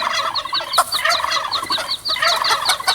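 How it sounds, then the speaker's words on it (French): An irritated cartoon turkey gobbles in rapid, repeated bursts of high warbling calls, loud and close, with no talk over it. "Le dindon est irrité."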